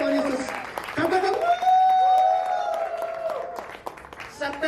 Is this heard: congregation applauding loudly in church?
yes